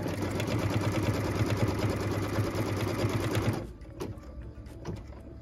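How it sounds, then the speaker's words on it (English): Sewing machine running steadily as it stitches a tack-down line on quilt fabric pieces, a close, even mechanical whir that stops abruptly partway through, leaving quiet room sound with small handling clicks. "smooth it in place, and then stitch the tack down line"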